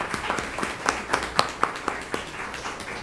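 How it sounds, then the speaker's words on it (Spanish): Sparse audience applause welcoming a speaker at an academic talk on development ethics, a small group clapping in scattered individual claps that sound fairly close and moderate in loudness. "l uso de la palabra al doctor Gonzalo Gamio, a quien recibimos con un fuerte voto de aplausos."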